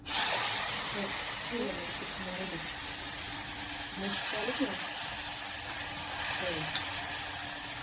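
A steady sizzling hiss of jaggery and spices hitting hot oil in a tempering for amti, with a person talking over it.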